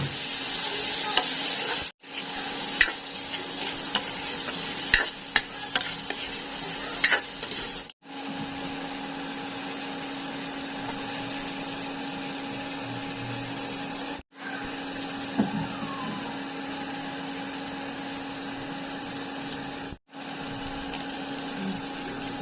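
Shrimp, garlic, tomato and onion sauté in a pan for Bicol-style ginisang repolyo with a steady sizzle and a constant hum, broken by clatters of stirring and a few brief silent gaps.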